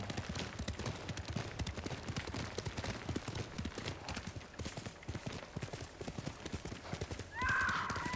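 Rapid hoofbeats clatter continuously as a horse gallops in the video game Ghost of Tsushima, and a short whinny breaks through near the end.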